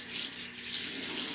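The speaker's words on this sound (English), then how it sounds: "Washing my hands." Tap water runs steadily into a sink during handwashing, a brief, close, continuous hiss with no talking.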